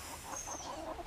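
A chicken clucks softly and close by in a series of short, irregular clucks while being petted.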